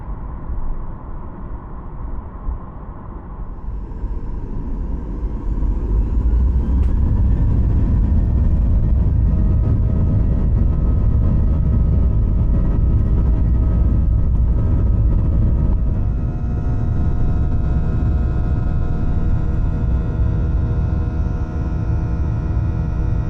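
A Garuda Indonesia Boeing 737-800 starts its takeoff roll from the runway, heard from inside the cabin: the engine roar swells after a few seconds into a loud, steady rumble with a faint whine, and no voices.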